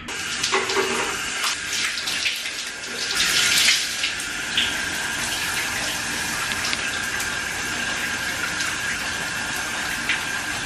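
Water runs steadily from a tap while curly hair is washed, a continuous close gush with a brief louder splash early on and no talking.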